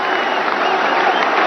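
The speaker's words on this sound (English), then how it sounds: "A packed stadium at Eden Gardens, standing and applauding and cheering" A packed crowd at Eden Gardens stadium during a cricket match applauds and cheers in a dense, continuous wash of clapping, with no single voice standing out.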